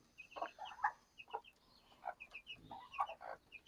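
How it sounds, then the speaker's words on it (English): Bantam chickens clucking inside a coop on a homestead, a run of short, close clucks and soft calls repeating irregularly throughout with no talking. "She's got a couple of bantams in here."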